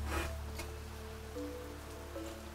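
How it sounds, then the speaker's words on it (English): Rain falling in the video game Niche, a soft steady patter of raindrops under a low hum and faint tonal game music, quiet and even throughout. "Rain is coming!"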